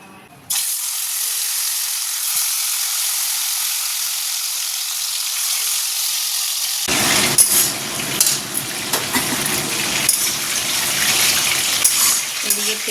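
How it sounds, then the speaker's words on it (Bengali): Chicken and onions fry in hot oil for a chicken tarka chap, a steady close sizzle that swells into louder crackling and spitting partway through, with occasional utensil clinks. "এদিকে তেলটা গরম হয়ে গেছিলো, এতে আমি এবার পেঁয়াজটা বেরেস্তা বানিয়ে নেব। আর এদিকে চিকেন ভাজা হচ্ছে"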